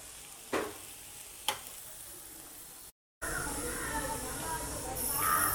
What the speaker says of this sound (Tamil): சாஸ் சேர்த்து நல்லா மிக்ஸ் பண்ணி விட்டுட்டேன்.